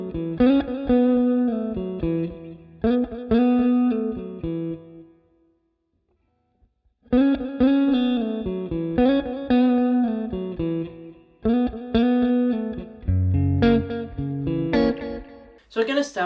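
An electric guitar plays the lead riff of a song, a repeated phrase of distorted, effected notes that pauses briefly midway, then returns and builds with busier playing near the end.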